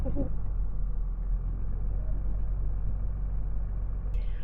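A pickup truck drives out to a harvest field, its engine making a steady low rumble that fills the whole stretch with no speech over it.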